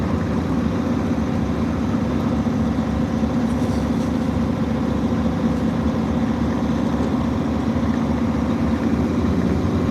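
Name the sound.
semi truck engine with bigger exhaust tip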